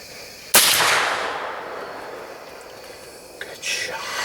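A hunting rifle fired at a 16-point buck: one loud sharp shot with a long decaying rolling echo outdoors, followed by faint whispered voices.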